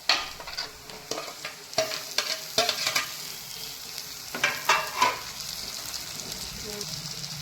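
Onions and a medium-sized tomato fry in a pan while a spoon stirs them, making repeated scraping strokes over a soft sizzle, close and fairly loud, with brief pauses between bursts of stirring.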